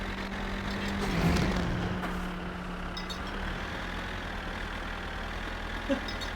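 Steady low tractor engine drone in a farming video game, a constant idling hum running throughout with a brief louder swell early on and a small click near the end.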